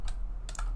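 Computer keyboard keys tapped while entering a prompt: two short clusters of crisp clicks with a pause between them, close and fairly quiet, no voices.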